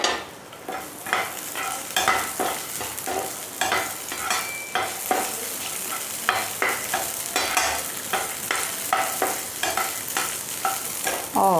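Beans and vegetables fry loudly in hot oil, a steady dense sizzle with repeated scraping and stirring strokes throughout, close and continuous with no voices.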